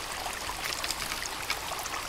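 Rain in the survival video game Sons of the Forest, a soft, even hiss and patter of falling water running steadily at low level with no voices.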